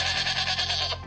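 A single sheep bleats in one sustained, wavering call, loud and close, with no talking over it.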